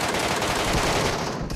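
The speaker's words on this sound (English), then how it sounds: "Bro's gonna spend all of his bullets." Gunfire in the video game PUBG Mobile, a dense rapid burst of automatic shots that is loud and continuous for about a second and a half.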